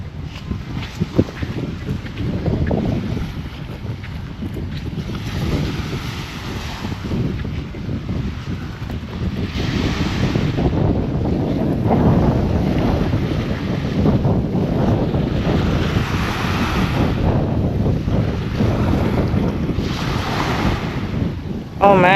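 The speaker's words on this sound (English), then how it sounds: "This is the beach." Ocean waves wash onto a beach in the Bahamas, a steady broad roar with rising surges and heavy wind buffeting the microphone, and no voices heard.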